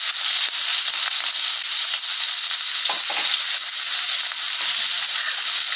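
Chopped onion frying with mustard seeds in a pan gives a loud, steady sizzle and crackle throughout, close up with no talking.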